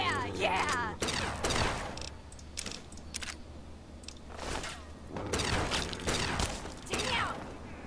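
Gunfire in Fallout 3, a run of loud, sharp shots in irregular bursts with ringing tails, set against a low steady game backdrop.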